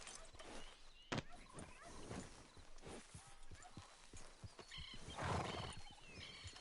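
In the video game Red Dead Redemption 2, a horse's hooves clip-clop steadily and close, with a neigh breaking through near the end while someone talks quietly over the scene.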